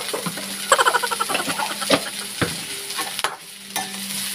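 Sliced bamboo shoots sizzle in a little oil in a frying pan while being stirred, a steady close crackle broken by the scrape and clack of a utensil against the pan.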